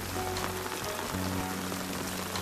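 Heavy rain pours steadily onto a sinking riverbank road along the Ganges, a dense, even hiss with a low engine-like hum running underneath.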